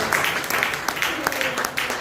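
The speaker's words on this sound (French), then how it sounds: "Donnez une bonne main d'applaudissement, Seigneur, au nom de Dieu." A church congregation claps together during a French-language service, with bursts of applause mixed with voices.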